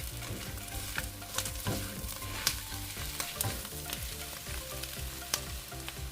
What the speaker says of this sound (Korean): 어느 정도 볶다가 어묵을 넣고 중불에서 같이 볶아줍니다.